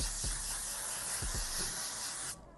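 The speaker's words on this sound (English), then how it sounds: "But now I'm gonna take this setting spray." Makeup setting spray mists from a bottle in one continuous close, loud hiss lasting about two seconds, with a few soft pump thumps underneath before it cuts off abruptly.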